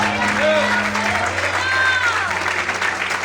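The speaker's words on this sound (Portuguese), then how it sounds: "Quantos podem aplaudir e exaltar a Deus essa noite?" A church congregation claps for God during an evening worship service, a broad wash of applause with voices calling out and brief tonal vocal sounds over it, sustained throughout.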